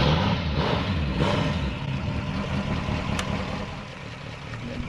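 A 1966 Shelby Mustang engine idles with a low, steady rumble while the car backs out of a trailer. The sound stays close and fairly loud throughout, with no talking.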